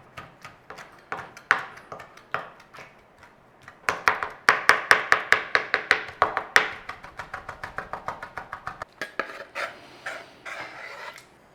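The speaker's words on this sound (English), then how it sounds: "we're just going to give that a mashing over with a knife" A knife mashes ingredients on a chopping board for a bold Mexican flavour, producing a fast run of sharp, close taps and scrapes that builds in the middle and thins out toward the end.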